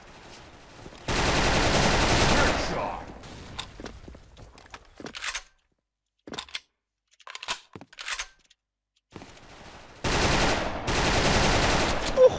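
Bursts of automatic gunfire in a first-person shooting video game, with two long loud volleys at the start and end and scattered shorter shots and clicks between them, no talk.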